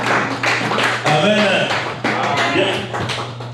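A congregation applauds during a French-language church service, a dense patter of clapping in rhythmic surges. A voice calls out over the hands, and a steady low hum runs beneath throughout.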